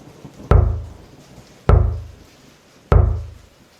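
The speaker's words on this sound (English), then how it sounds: "The knocking came back harder than before." Three heavy knocks on a wooden door, evenly spaced about a second apart, each a loud sharp thud with a short booming decay, close and alone against near silence.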